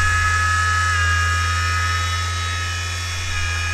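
Car window motor driven by a Bedini circuit spinning freely at high speed, a steady close electric whine with a low hum underneath and tonal buzzing, unchanging throughout.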